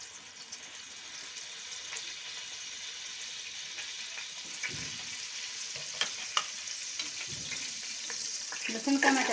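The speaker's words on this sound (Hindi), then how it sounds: "लहसुन का मैं तड़का लगाऊंगी।" Finely chopped garlic fries in hot oil for a tadka, giving a soft, continuous sizzle with light scraping and stirring clinks, fairly quiet throughout.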